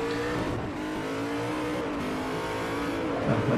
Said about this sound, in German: man hört schon beim Gas geben, da wird ordentlich Power durch den Motor gejagt